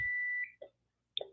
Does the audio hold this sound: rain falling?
no